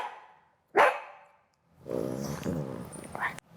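A senior dog gives a single sharp bark, close and fairly loud, followed by a pause and then a stretch of indistinct vocal sound that may be further whining or growling.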